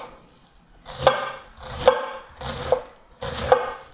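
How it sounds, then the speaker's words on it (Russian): A knife shreds cabbage for a summer salad with radish, four crisp chopping strokes on a board, each a sharp close thud followed by a brief scrape, evenly spaced about a second apart with no talk. "Далее шинкуем капусту."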